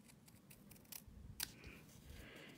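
Scissors make a few quiet, quick snips through designer series paper for a handmade card, with a sharper cut near the middle amid faint rustling.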